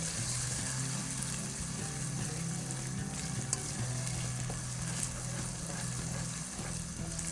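Peas fry with ginger garlic paste over a high flame, a dense, continuous sizzle with occasional stirring clinks, close and even throughout with no speech.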